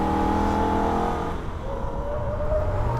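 A Holden VF Ute's engine drones steadily at speed around the Nürburgring, with gear changes and a shifting pitch as the car slides through a corner and the throttle comes back on.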